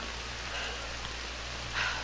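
Steady rain patters onto a wooded trail during a mountain trail race in the Sancy, a continuous soft hiss with a slightly brighter swell near the end and no voices.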